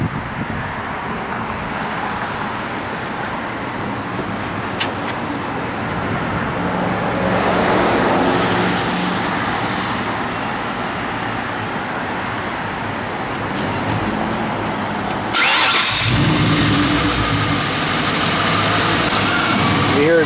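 A 1938 Ford street rod pickup engine runs steadily at idle with a broad, continuous rumble, close by, and a brief sharper burst partway through before the sound grows slightly brighter and louder near the end.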